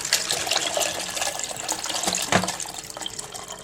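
Iced water pours for homemade juice in a steady, splashing stream that fills a container up close, the flow thinning slightly toward the end.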